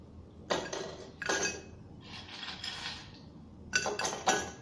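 Ice cubes dropped by hand into drinking glasses for lemon mint iced tea: three or four close bursts of clinking and rattling glass, the clatter settling between drops, with no voices.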